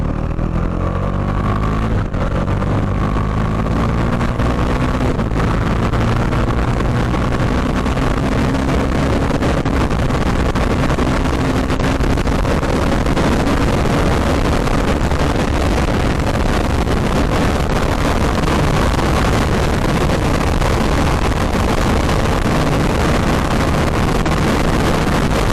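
A Bajaj Dominar 400 motorcycle ridden at top speed, its engine drone steady and loud under heavy wind roar for the whole stretch, with no talking.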